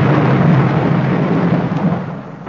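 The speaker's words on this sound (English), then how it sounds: "It's quite on the cards that this storm may last all night." A thunderstorm: a loud, continuous low rumble of thunder that rolls on and slowly fades, with no voices.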